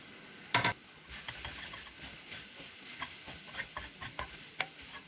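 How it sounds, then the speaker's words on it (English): Spring onions tossed into a pan of egg rice with tomatoes and turmeric over reduced flame, giving a quiet steady sizzle with one sharp scrape and light intermittent stirring clicks. "now I'm adding the spring onions"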